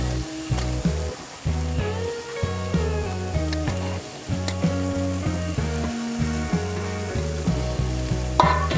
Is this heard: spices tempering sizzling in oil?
yes